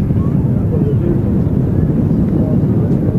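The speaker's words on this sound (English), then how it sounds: "This Turkish Airlines really getting blown around." A Turkish Airlines Airbus A321neo landing in strong wind at Manchester Airport, a loud, steady roar of engine and wind buffeting the microphone throughout, with no clear talking.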